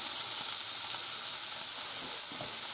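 Chopped onion sizzles in homemade sunflower oil in a frying pan on the stove, a steady, close hiss of frying with no voices.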